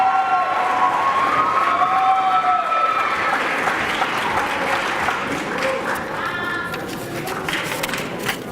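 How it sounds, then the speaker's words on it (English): A sports banquet audience applauds, broad sustained clapping from a large crowd that holds steady and slowly thins out, with a voice briefly audible at the start. "Let's give him a round of applause for all the work that he's done this year"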